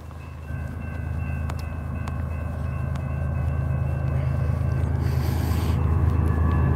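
A BNSF freight train rumbles past steadily, a low continuous roar with rattling cars and a brief hiss, growing slightly louder as it goes.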